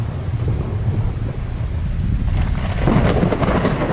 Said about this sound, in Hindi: अरे बाप रे, बारिश तो बहुत तेज है।